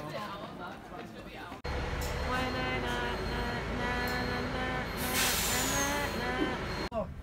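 A city bus pulls up at a stop near Florence with a low idling engine and a sharp burst of air-brake hiss, heard close by with people talking nearby.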